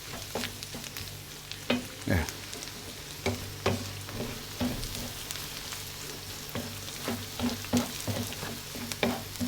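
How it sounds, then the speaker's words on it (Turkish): Meat sizzles in a pan with garlic, onions and tail fat, a steady frying hiss broken by repeated scraping stirs and clinks of a utensil, close and moderately loud with no talking. "Sarımsaklarımızı da attık. Güzelce kavurmaya devam ediyoruz."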